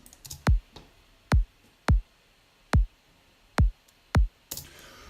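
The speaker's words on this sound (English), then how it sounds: "without any progressing, the kick drum sounds like this." An unprocessed, dry, punchy kick drum sample hit six times at a steady, moderate pace, each thump short and clean with silence between, followed by a brief noisy burst.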